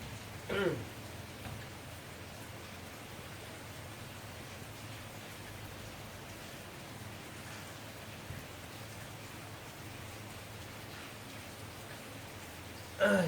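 Rain falls steadily over rice fields among mountains in Laos on a rainy-season morning, a soft, even hiss with a couple of brief louder knocks near the start and end; a voice is faintly present.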